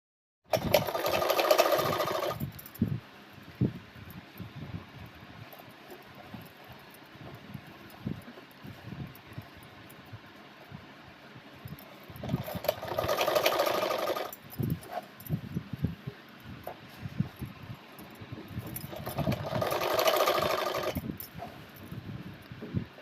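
A sewing machine stitches a half pant seam with a half-inch margin in three loud bursts of whirring, at the start, around 13 seconds and near 20 seconds, separated by quieter handling and rustling of the fabric.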